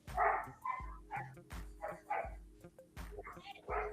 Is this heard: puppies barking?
yes